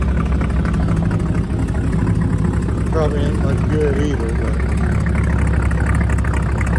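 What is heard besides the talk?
truck engine running at idle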